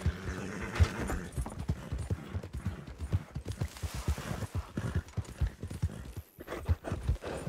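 Rapid rhythmic hoofbeats of a galloping horse in the video game Red Dead Redemption 2, loud and close, pounding steadily with a brief pause near the end.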